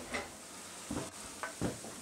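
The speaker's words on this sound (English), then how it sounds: "the next thing we do is put in the onions." Onions cooking in a pan for a quiche, a quiet backdrop of low frying hiss broken by a few short stirring scrapes and pulses, with no talking.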